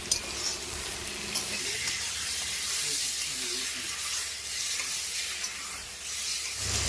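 Vegetables for a village-style shukto sautéing over a raised gas flame in a pan with salt and turmeric, a steady broadband sizzle that runs throughout at moderate loudness with faint utensil clinks.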